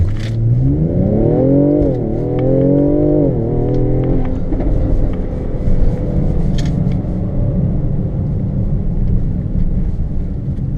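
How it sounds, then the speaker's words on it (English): A 2017 Mercedes GLC 43 AMG with a 3-liter twin-turbo V6 revs hard. Engine tone climbs through the gears in rising sweeps over the first four seconds, then settles into a loud, steady, rumbling cruise drone with no talking. "It pulls for sure, and that's mainly because it's a V6. It's got a twin turbo, and it's 3 liters"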